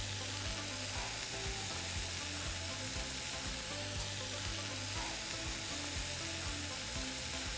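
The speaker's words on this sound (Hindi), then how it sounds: "कच्चा था हमारा टमाटर, अब उसको अच्छे से भूनना है, बिल्कुल सुखा देना है" Tomatoes fry in a pan for Mexican fried rice, giving a loud, steady sizzle that stays dense and unbroken throughout, with a low humming tone running underneath and no voices.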